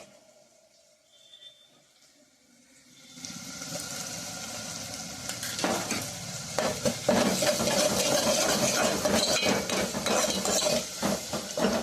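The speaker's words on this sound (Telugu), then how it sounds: "వేగిందండి ధనియాల పొడి కూడా" Coriander powder fries in oil over a medium flame for a dry fish and brinjal curry, starting with quiet background hum and then swelling into a loud, steady sizzle with spoon scrapes.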